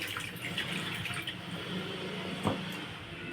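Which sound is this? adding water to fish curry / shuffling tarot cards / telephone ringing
adding water to fish curry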